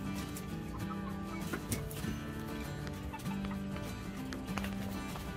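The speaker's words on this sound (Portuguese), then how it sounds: "Estão virando galinho aqui, ó. E a gente está se deparando que eles já estão brigando." Young roosters from a crossing of a white rooster with a hen, scuffling and clucking in a pen, with steady close clucks and squawks over a constant loud background.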